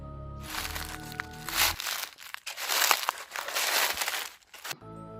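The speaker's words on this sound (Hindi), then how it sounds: "जैसे कोई बहुत हैवी इंसान सूखी पत्तियों के ऊपर बहुत धीरे धीरे चल रहा हो।" Dry, crunching crackle of heavy footsteps through brittle leaves, steady and fairly close, with a low hum fading out midway and returning at the end.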